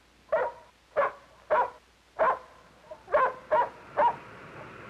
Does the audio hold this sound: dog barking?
yes